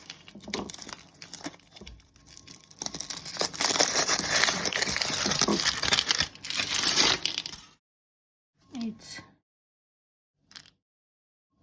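A chocolate egg shell is peeled out of its mould for a no-bake cheesecake, giving close, crinkly crackling and plastic crumpling for several seconds, then a few short isolated rustles after a pause.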